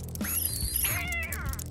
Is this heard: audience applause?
no